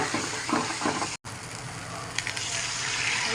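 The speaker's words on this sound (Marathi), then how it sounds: "आता थोडंसं गरम पाणी टाकणार आहे" Hot water poured into a pan of spices frying for shevbhaji, a strong steady sizzle and hiss with a brief cut partway through, steam crackling on throughout.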